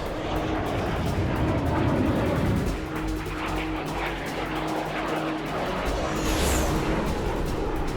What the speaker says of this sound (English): heavy cannon pummels another flying fortress